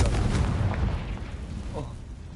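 A Confringo spell explosion in Hogwarts Legacy bursts out as a dense, roaring blast right at the start, then settles into a rumbling decay with scattered crackles over the following two seconds.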